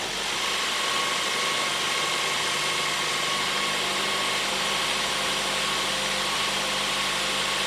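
A Ford C-MAX petrol engine, just fitted with new spark plugs, idles smoothly with a steady, even hum and a broad whir close to the microphone. It runs alone with no voices.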